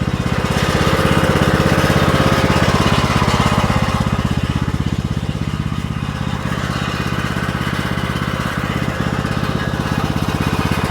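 Lawn tractor engine idling, bought in 2009 and heavily used, a steady loud close rumble with a fast even pulse that holds for the whole stretch.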